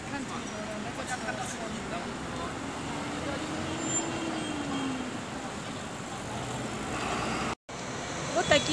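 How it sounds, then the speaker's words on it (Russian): A city bus drives past on a street in Sanya, Hainan, a steady moderate engine and road rumble with a slowly shifting tone, amid general traffic noise. "Такие автобусы ходят по городу Санья."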